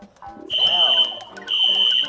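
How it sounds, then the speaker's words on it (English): A fire alarm sounds at an event hall in two long, loud, piercing steady tones separated by a short gap, with voices in the room beneath. "So a fire alarm went off."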